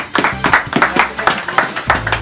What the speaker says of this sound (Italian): Un applauso a tutti!